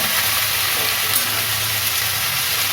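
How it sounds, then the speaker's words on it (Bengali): Carrots, tomatoes and winter vegetables sizzle in hot oil in a pan, a steady, loud, unbroken frying hiss close up and with no talking. "গাজর সব দিয়ে দিলাম তেলটা গরম"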